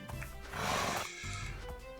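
A summoned horse in the Project Architect 2 video game lets out a brief, faint neigh over a music background.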